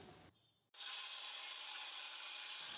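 Saw rough-cuts a length of wooden trim for a corner desk, making a loud, steady, rasping cutting noise close by that runs for about two seconds after a brief pause.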